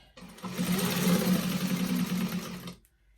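A sewing machine stitches a pocket on a vintage expandable tote bag in one steady, fast-running burst of about two seconds, close and loud, stopping abruptly.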